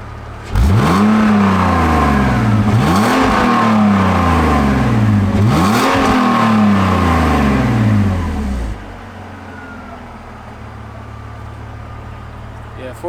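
BMW E46 with a stock exhaust and a warm engine, revved three times in quick succession, each rev climbing and falling back, loud and close, then settling to a quieter idle.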